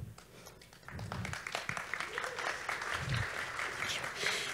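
An audience claps, a steady patter of applause that swells slightly, with a few low thumps in the background.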